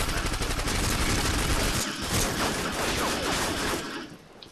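Dense bursts of gunfire in Call of Duty MW2, overlapping rapid shots in a sustained loud fusillade that fades out at the end.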